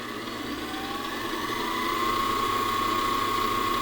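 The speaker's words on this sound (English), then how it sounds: "It's a smooth sounding mixer." A budget Farberware stand mixer runs steadily with a smooth, continuous mechanical whir and faint gear hum, holding an even, moderate level throughout with no talking.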